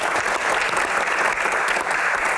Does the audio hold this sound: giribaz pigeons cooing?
no